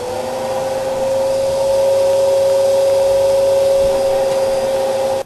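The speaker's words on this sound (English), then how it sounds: "it's a Hoover!" A Hoover vacuum cleaner runs steadily and loudly throughout, with a constant motor whine and airflow roar and no other sounds, until it cuts off abruptly at the end.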